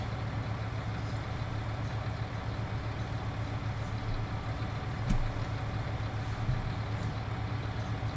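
A tractor engine in Farming Simulator 19 runs steadily at a low idle, a constant mid-heavy rumble with a faint knock or two, close and even throughout with no talking.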